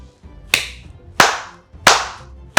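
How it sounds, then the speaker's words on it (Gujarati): Three sharp hand claps, spaced about two-thirds of a second apart, each a crisp close snap with a short ringing decay in a quiet room. "તાળીઓ પાડવી હતી"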